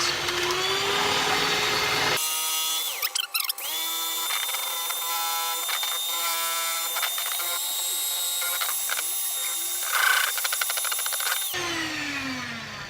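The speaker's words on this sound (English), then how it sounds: "And whisk to your heart's content." A cheesecake mixture is beaten to soft peaks with a whisk, giving a continuous buzzing motor whir that runs for about nine seconds, with quieter room sound before and after.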